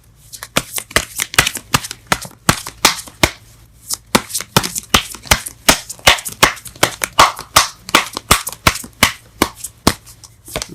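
Tarot cards shuffled by hand in a rapid, crisp riffling rhythm of dense snapping flicks, close and steady throughout with brief pauses, no talking.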